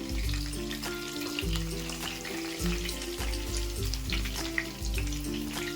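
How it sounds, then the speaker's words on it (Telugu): Pieces of chicken fry in hot oil with a steady, loud sizzle and crackle that fills the clip, with occasional pops and stirring, and no voices. "ఇలా వేయించుకోవాలండి ఇలాగైతే మనకు ఎక్కిపోయిందండి చికెన్ అంతా"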